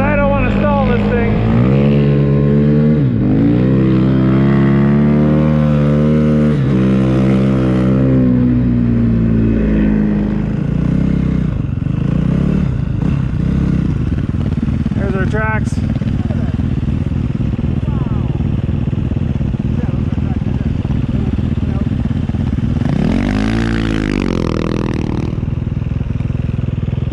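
Snow bike engine running while riding through snow, a steady motorized drone with rising and falling pitch sweeps throughout, loud and close, with someone talking over it.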